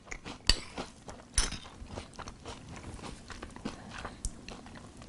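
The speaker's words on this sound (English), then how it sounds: "I'm gonna go ahead and dig in and try these Chips Ahoy cereal pieces" Close, soft chewing of Chips Ahoy cereal pieces soaked in milk, with a couple of sharper crunchy bites early on and then steady moist mastication.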